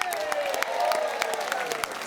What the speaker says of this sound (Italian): Io vorrei un applauso per tutti i ragazzi dell'orchestra